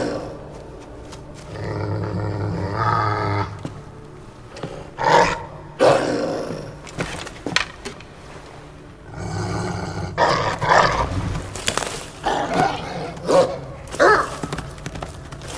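A dog or wolf in Assassin's Creed Valhalla growls and barks in rough, roaring bursts, some close and loud, spread across a busy game soundscape with pauses between outbursts.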